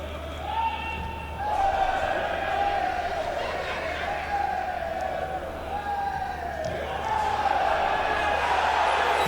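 Football stadium crowd at a Bournemouth match rising in a long, swelling ooh of anticipation, a broad sustained roar from many voices, with a commentator's speech underneath.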